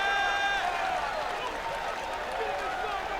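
A large wrestling crowd cheers with sustained roaring at the TD Garden during a WWE event, steady and loud, with a commentator's voice running over it.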